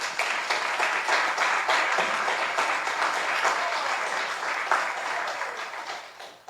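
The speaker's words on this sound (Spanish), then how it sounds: "Dale un fuerte aplauso al Señor." A church congregation applauds during a worship gathering, steady dense clapping from many hands held at an even level before tapering off toward the end.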